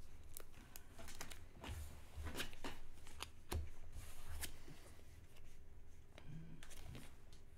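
A deck of cards being shuffled during a dueling card game session, a rapid papery riffle of repeated ticking flicks and snaps running steadily at close range, with no voices over it.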